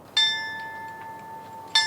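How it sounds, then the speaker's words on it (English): A ship's bell rings twice at a Pearl Harbor memorial ceremony aboard the USS Midway flight deck, two clear metallic strikes with a long ringing decay between them, alone in quiet surroundings. "The tolling of the bells symbolizes remembrance and respect of those who lost their lives during the attack on Pearl Harbor."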